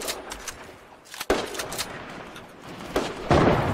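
Gunfire in a Fortnite-style shooter video game, with several sharp shots and short bursts cracking nearby over a steady background.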